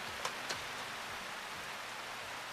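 Cartoon rain falls steadily as a dense, even hiss, with a couple of faint taps near the start and no voices.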